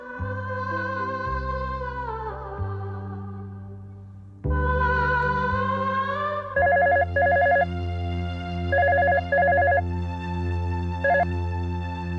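A telephone rings during a call in a Hindi television drama, repeated electronic trilling bursts in a regular pattern layered over sustained background music with no talking.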